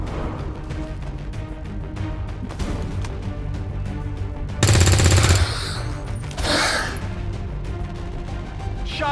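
Gunfire in the combat game XCOM 2: a loud, dense burst of shots around the middle, then a second sharper crack, over steady game music and ambience.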